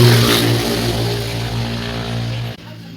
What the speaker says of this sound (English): I don't know why them can't make them bikes so loud.